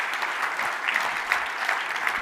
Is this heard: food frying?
no